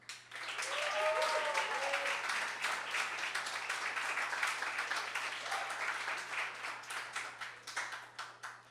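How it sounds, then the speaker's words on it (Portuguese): An open-mic crowd gives Cauê Procópio a round of applause, a dense wash of clapping that holds steady, then thins into scattered claps near the end, with a brief voice or whistle early on. "Peço uma salva de palmas para o Cauê Procópio,"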